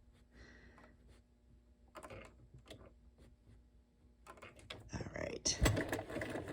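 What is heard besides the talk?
sewing machine stitching decorative stitches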